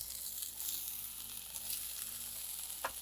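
Broccoli and bell peppers sautéing in a pan on a cooking show, a steady soft sizzle throughout with a single sharper clink or scrape near the end, no talk.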